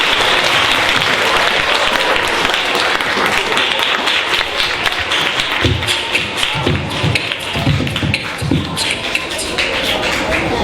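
An audience at an interschool poetry showcase for primary pupils claps steadily, a dense, loud wash of applause that runs the whole time with a few thumps mixed in.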